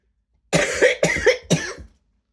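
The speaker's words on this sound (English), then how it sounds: "Sorry about the coughing." Three quick, harsh coughs in a row, close and fairly loud, followed by silence.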